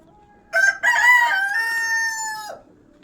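A chicken at a poultry farm crows once, close and loud, in a strained, drawn-out call lasting about two seconds, with brief clucking at its start and a quiet background around it.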